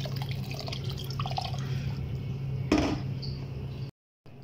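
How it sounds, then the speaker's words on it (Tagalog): Hot water poured into rice for chicken kabsa, a close, steady trickle and splash over a low hum, with one brief louder splash before the sound cuts off. "kaya mag-add ako ng hot water."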